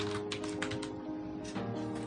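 Arduino code being typed on a computer keyboard: a quick run of close keystrokes, a short pause, then another burst of clicks over a low steady hum.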